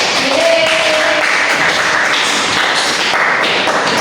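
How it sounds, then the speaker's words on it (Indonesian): A classroom group claps together at the close of a micro-teaching session, a loud continuous patter of hands filling the whole stretch with little variation. "Kita beri tepuk tangan dulu untuk semuanya"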